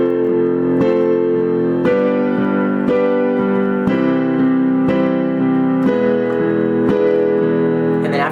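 Solo piano plays the chord progression of a song, with steady, evenly spaced chords struck roughly once per second and sustained, close and full, with no voice over it.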